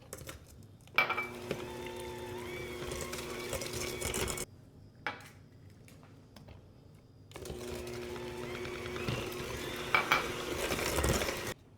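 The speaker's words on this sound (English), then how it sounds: "I'm going to add my eggs one at a time and beat well after each addition of the egg" An electric mixer beats eggs into cake batter in two long, steady runs of whirring motor with faint scraping against the bowl, separated by a quiet pause.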